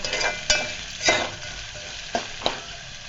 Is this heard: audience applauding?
no